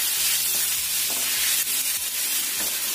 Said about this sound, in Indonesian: Tumis sampai daging ayamnya itu agak layu.